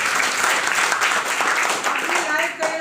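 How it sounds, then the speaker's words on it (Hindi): A room full of people applauds to welcome children before their first presentation in a product class, dense continuous clapping close by that tapers off near the end. "बच्चों का बहुत बहुत सबसे पहले ताली बजाकर स्वागत करिए।"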